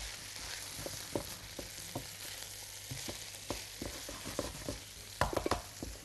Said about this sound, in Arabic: سيبهم بس يتشوحوا شويه كده.